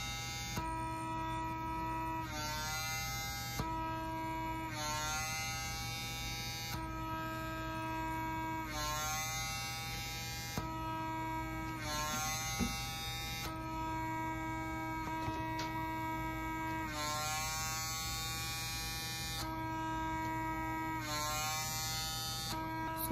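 A PMD microdermabrasion device running with suction on skin gives a steady close electric buzz and hum, its pitch shifting in regular cycles every couple of seconds as it is moved, with no talking.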